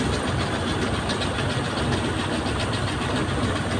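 Tractor engine running steadily with a heavy low rumble while the tractor turns in a rice paddy field, a continuous near, loud drone with no pauses.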